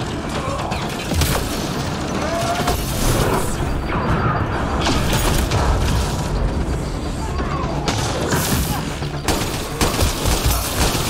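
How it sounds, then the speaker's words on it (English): Shotgun fire in the sci-fi shooter game Mass Effect Andromeda, dense loud bursts of blasts and impacts running continuously through a chaotic firefight, with a brief voice heard at points. "Ah, goddamn shotgun."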